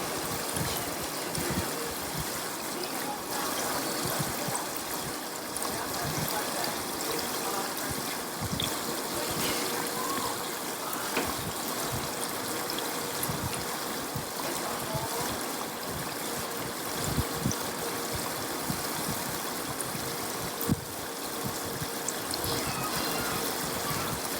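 Steady, dense crackling and bubbling of lumpia frying in hot oil, continuous throughout with no voices.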